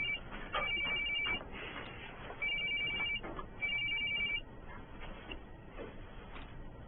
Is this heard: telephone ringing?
yes